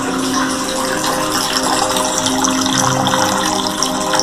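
Water gushes in a room of a house, a loud, steady, continuous rushing flow that holds the same level throughout with no talk.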